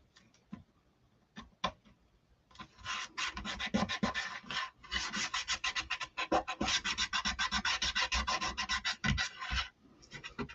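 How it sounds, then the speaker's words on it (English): Chalk Couture transfer being burnished onto a tiered tray, a few isolated scrapes at first, then rapid rhythmic back-and-forth rubbing strokes, close and fairly loud, pausing briefly midway and tapering off at the end. "So I'm going to burnish it down pretty good."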